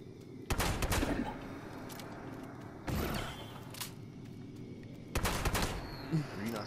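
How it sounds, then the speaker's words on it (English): Gunfire in a video game comes in several short loud bursts of rapid shots, separated by quieter stretches of game ambience. "You're shooting at me."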